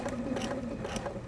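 A sewing machine stitching fabric, with a rapid mechanical whirr and rhythmic needle clatter repeating several times across a brief moment, close and steady.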